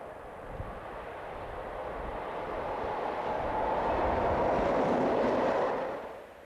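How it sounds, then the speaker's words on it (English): A French BB26000 electric locomotive hauls a northbound freight train through Selsta, its rumble and wheel noise swelling steadily as it nears, holding loud, then easing off at the end. "heading a northbound freight through Selsta"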